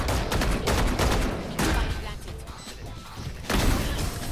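Gunfire in the VALORANT shooter game, a dense crackle of rapid shots and impacts filling the whole stretch with a fresh loud burst near the end, mixed under player chatter.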